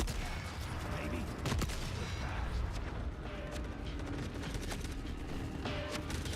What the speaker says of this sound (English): you're shooting a 20mm anti-tank rifle from the shoulder, standing up